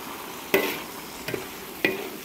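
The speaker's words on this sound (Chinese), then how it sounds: "把所有的底料都炒香了哈，倒菜了" Vegetables stir-fried in a wok for mala xiang guo: a sizzle underneath and three sharp scraping strokes of the spatula against the wok, evenly spaced, with no talking.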